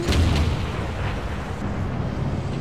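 Heavy booming cannon blasts with a rumbling low end, dense and continuous, like game artillery fire close by.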